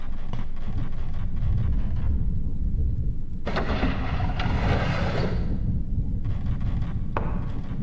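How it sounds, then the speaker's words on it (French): Loud, rolling thunder after a lightning flash in the video game Project Zero 2, a deep rumble that swells and lingers over a constant rain-like wash of noise. "Ouh l'éclair violent."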